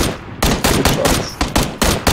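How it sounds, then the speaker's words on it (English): Gunfire in the video game PUBG, a rapid string of loud, close shots coming in short bursts with brief gaps between them. "he's shooting me"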